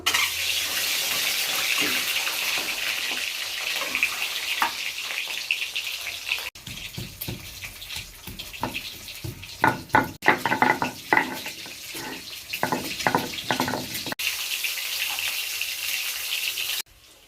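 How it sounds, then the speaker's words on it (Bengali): An egg frying in oil in a karahi (wok), giving a steady broadband hiss throughout with a few louder crackling spatters in the middle, close and fairly loud, with no one talking. "ডিমটা ভেজে নেব।"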